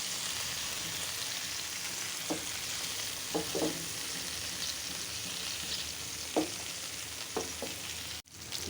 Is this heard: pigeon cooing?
no